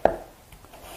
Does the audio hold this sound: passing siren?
no